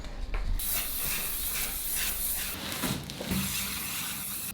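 Disinfectant spray hissing over delivered items being sanitized, a few short and long bursts of bright hiss in an irregular rhythm, close and fairly quiet over a low background hum.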